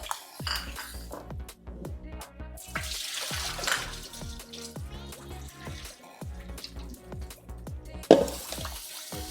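Raw chicken for tandoori rinsed under a running tap, with water splashing and trickling in uneven bursts alongside light clinks of a bowl or utensils, close and moderately loud.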